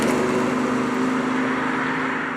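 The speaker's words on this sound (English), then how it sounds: "It sounds like a nice V8. BMW has won me over with their fake sound." BMW i8 plug-in hybrid driving with its artificial V8-like engine sound: a steady, loud, continuous hum with strong low harmonics, held evenly throughout with no talk.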